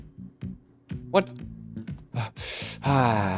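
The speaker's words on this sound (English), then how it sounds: "Just breathing like a human." An alien character in the game Alien Gooping in Public breathing like a human, with sharp gasps and a long exhale among short clicks and game sounds. The breathing sounds voiced, close and fairly loud.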